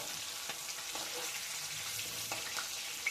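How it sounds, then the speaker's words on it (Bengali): Pieces of fish frying in hot oil in a pan, an even, moderately quiet sizzle with faint crackles and no voices. "তেলটা গরম হয়ে গেছে, তেলের মধ্যে মাছগুলো ছেড়ে দেব"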